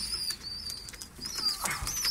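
Pigeons coo and flap their wings at close range, a brief flurry of wingbeats over soft calls and faint chirps.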